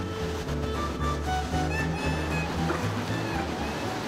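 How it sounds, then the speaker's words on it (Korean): Atlantic ocean waves wash continuously along the shore of the Canary Islands, a steady broadband roar with a low rumbling undertone. Faint tonal sounds drift through the surf, and no one speaks. "짙푸른 바다에서 불어오는 싱그러운 바람과 청명한 파도 소리가"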